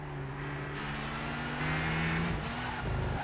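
Race cars in Gran Turismo 5, one chasing a Mazda Atenza right on its back bumper, engines droning steadily with a rising rev and a brief tire squeal, close and continuous with no talk.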